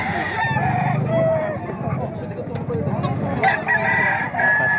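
A rooster crows loudly and close among other fowl, the long call ringing out over a busy backdrop of clucking birds with a voice faintly mixed in.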